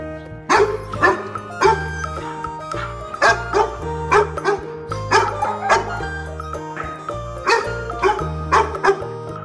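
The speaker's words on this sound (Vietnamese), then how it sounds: "Con chó." A dog barks repeatedly in short, regular bursts, set against a steady, rhythmic music track.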